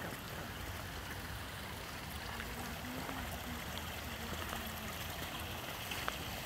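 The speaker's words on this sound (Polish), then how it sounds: "tutaj woda spływa do stawu" Water runs down into a pond in a city park garden, a steady, close rushing and trickling wash that continues evenly throughout with no talk.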